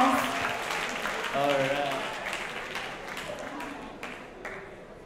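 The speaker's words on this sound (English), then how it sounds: "let's give them all a big round of applause" An audience applauds prize winners at a 2017 prize presentation ceremony, with a dense wash of clapping that slowly fades, while a voice talks over it.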